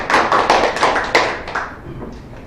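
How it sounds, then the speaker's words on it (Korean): Audience clapping at an academic social welfare seminar as a speech instructor is welcomed to present, a burst of close, fairly loud claps that fades and thins out toward the end. "한번 예, 박수로 맞이하겠습니다."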